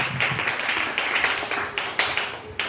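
A church congregation claps in praise of the Lord in quick, steady rhythmic beats at moderate loudness, with a soft background hum underneath.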